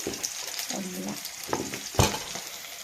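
Ginger garlic paste tipped into a hot pan of oil crackles and sizzles close by, with bursts of stirring and spattering and a louder hiss near the end.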